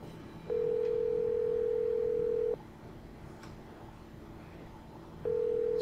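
A steady telephone tone in the Nancy Drew video game The White Wolf of Icicle Creek sounds for about two seconds, falls silent, then starts again, loud and even over low room noise.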